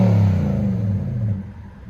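A 2019 Nissan Titan pickup's 5.6L V8 with a STILLEN cat-back exhaust gives a deep, loud rev that rumbles close by and then fades as the engine settles.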